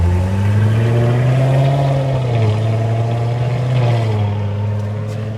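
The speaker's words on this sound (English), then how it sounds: "Let's fire it up, shall we?" Supercharged 1964 Studebaker Hawk Gran Turismo engine running with a steady, close, loud drone that rises and dips in pitch as it is revved.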